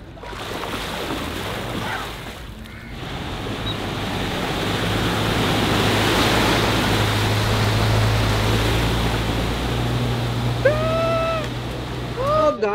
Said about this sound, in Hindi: दरिया चल रहा है, दरिया फुल सिलाब आया हुआ है।